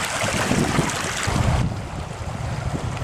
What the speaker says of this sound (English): it looks like the wind's kicking up and it's getting cold